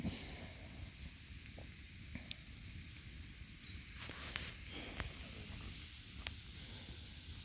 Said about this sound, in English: Sure is nice to have a campfire to sit by.